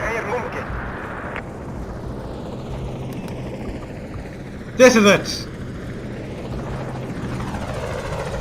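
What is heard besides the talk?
American helicopters flying by in video game Battlefield Iraq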